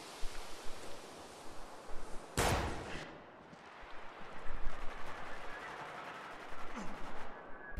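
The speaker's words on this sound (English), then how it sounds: "I think there's someone on the deck with the machine gun at the bar." Gunfire crackles in a Spec Ops: The Line multiplayer match, with a sharp loud burst near the start followed by scattered distant shots and rustling noise, and a player talks faintly in places.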